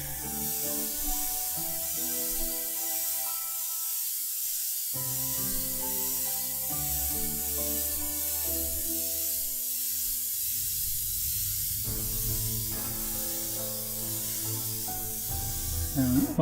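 An airbrush sprays paint onto a model canal boat with a constant, faint airy hiss that lasts throughout, under steady background music.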